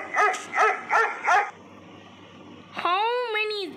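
A puppy in a Roblox video game gives four quick, evenly spaced yips, goes quiet for a moment, then lets out a long, wavering high whimper, all close and clear.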